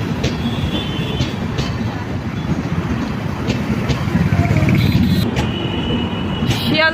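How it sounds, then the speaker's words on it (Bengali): Sealdah–New Delhi Rajdhani Express rolling slowly over Vivekananda Setu past Bally Ghat station, a continuous loud rumble of wheels and carriages with rhythmic rattling and occasional high squeals. "শিয়ালদা নিউ দিল্লি রাজধানী যাচ্ছে। এই সময় বিবেকানন্দ ব্রিজ ক্রস করে বালিঘাট স্টেশনের উপর দিয়ে যাচ্ছে।"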